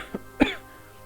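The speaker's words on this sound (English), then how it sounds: "a coughing fit in the middle of that" A short coughing fit in a Final Fantasy XIV cutscene: one small cough followed by a louder, harsher cough, close and clear over a quiet background hum.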